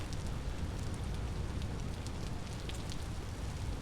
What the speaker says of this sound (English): I wish it would stop raining